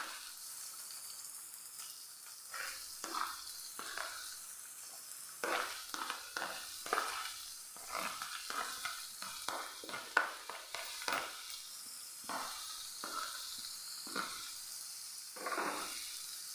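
Onion sautéing in a hot pan for samosa filling, a steady close sizzle broken by scattered stirring scrapes and bursts, with no voices.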